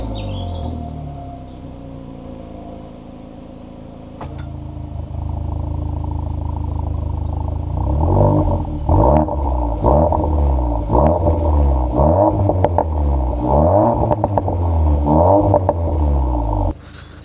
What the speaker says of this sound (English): let me show you how it sounds when you turn the car on